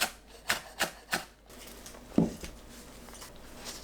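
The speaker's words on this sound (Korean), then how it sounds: "파를 작게 썰어주세요." A knife finely chopping green onions on a cutting board: three crisp, evenly spaced taps, a pause, then one duller thud, close and fairly quiet, with no talking.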